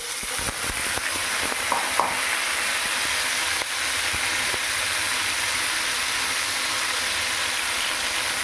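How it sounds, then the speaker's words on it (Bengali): Small cut potatoes fry in hot oil with cumin seeds, a steady bright sizzle and hiss close by, with a few sharper crackles near the start and no talk. "এবার আলুগুলোকে আমরা এর মধ্যে দিয়ে ভালো করে বেশ লাল করে ভেজে নেব।"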